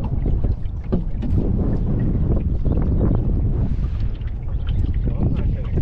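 Wind gusting steadily over a sailboat out on the water, a loud, continuous roar of wind buffeting the microphone with no speech heard.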